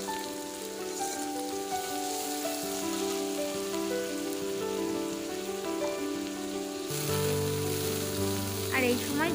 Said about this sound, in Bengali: এবার সামান্য জল দিয়ে মশলাটাকে আমি ভালোভাবে কষিয়ে নেব।